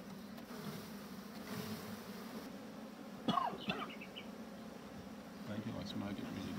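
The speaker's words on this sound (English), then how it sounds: "Shake the bees in." Honeybees shaken from a box into a horizontal hive in Australia give a steady low buzzing hum, with a brief clatter and thump partway through as the box is knocked, and faint voices in the background.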